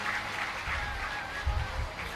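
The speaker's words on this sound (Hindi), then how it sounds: "बहुत तालियों के द्वारा स्वागत करें" Applause from a gathering at a Shiv Puran religious discourse, a dense, steady wash of clapping heard at moderate distance and fairly soft, with no break across its short span.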